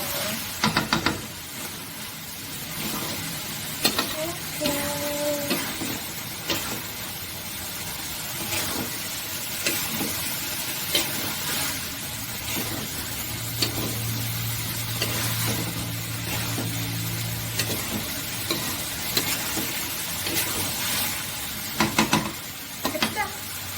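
Aubergine fries on a home stove with a steady close sizzle, broken by occasional utensil knocks and stirring; a brief low hum passes midway.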